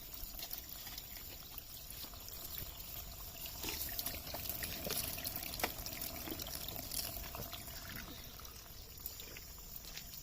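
Natural spring water trickling and pouring steadily at a traditional drinking spot in the Kottayam hills, a soft, continuous, fairly faint splashing with no voices over it.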